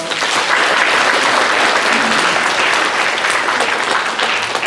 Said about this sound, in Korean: 감사의 박수 한번 할까요?